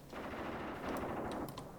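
An artillery strike of high-explosive rounds on a flank in the war game Graviteam Tactics: a faint, dense crackle of distant blasts rolling together, with a few sharper bursts near the end.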